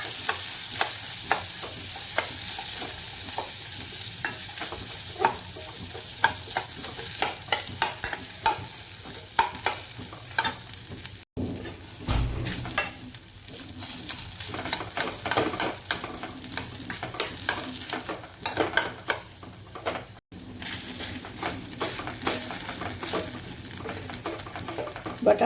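Potatoes sautéed in hot oil for mirchi vada filling, a steady close sizzle broken by frequent scraping and tapping of a spoon against the pan, continuous without talking.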